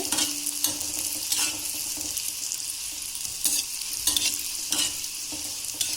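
Maida dough balls (gulladaki undi), a North Karnataka sweet, deep-frying in oil over a low flame while being stirred constantly: a steady, close hiss of sizzling with scraping and stirring strokes running through it, and no talking.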